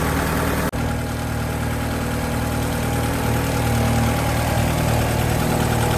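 A Japanese import car's engine idles steadily while warming up, a loud continuous mid-low hum with a faint rhythmic pulse and one brief dropout near the start, no voices.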